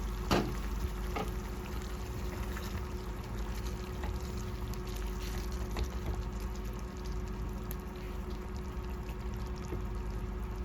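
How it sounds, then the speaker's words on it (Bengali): Water pours steadily into a mixer grinder jar in an Indian home kitchen, a continuous close splashing and trickling stream that runs evenly throughout with no talk. "মিক্সির জারের মধ্যে একটু জল দিয়ে জলটা দিয়ে দিলাম"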